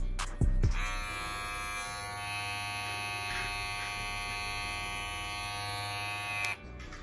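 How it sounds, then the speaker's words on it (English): BaByliss hair clippers run steadily with a close, even electric buzz and a bright whine, switching on after a brief handling clatter and cutting off near the end. "this clipper is a little louder than the gold. Sound test, here we go."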